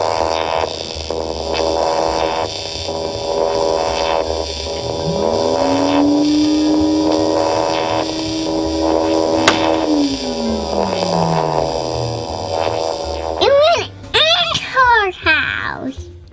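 A homemade pneumatic tooth transport system runs with a steady, loud droning whoosh and a rising then falling tone, before children's excited voices break in near the end.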